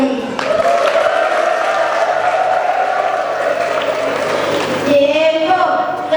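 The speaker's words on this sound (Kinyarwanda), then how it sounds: "Mudufashe tubavugirize impundu." An audience at a youth talent closing ceremony gives sustained applause with high, wavering ululation riding over it. It stays loud and dense throughout, briefly dips, then swells again near the end.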